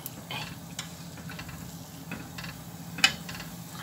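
Fish frying in oil in a pan gives a faint, steady sizzle with scattered small crackles and one sharper pop, all quiet and close.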